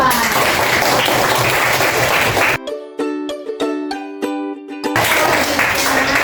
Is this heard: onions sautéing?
no